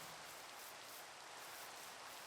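Rain falls in the Minecraft video game as a faint, steady, even hiss with no other sounds over it.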